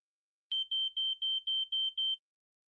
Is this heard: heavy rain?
no